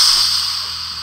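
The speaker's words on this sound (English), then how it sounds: "That's the sound of spraying water, in case you were wondering." Spraying water in the video game Bully: a steady, bright hissing spray that holds for about a second, close and fairly loud, with no talk over it.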